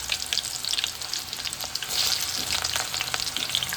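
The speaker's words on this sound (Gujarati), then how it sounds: "હવે આપણે થોડી ડુંગળી નાખી દઈએ." Onions and garlic sizzle steadily in a hot pan, a continuous bright crackle with occasional stirring, close and moderately loud with no talking.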